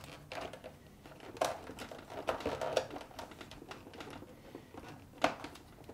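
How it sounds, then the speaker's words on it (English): Adhesive tape is peeled back from the wiring of a Whirlpool French door refrigerator, making faint crinkly, sticky crackles and a few sharper ticks, quiet and close. "Now, peel back the tape and remove the green, white, and black wires from the retainers."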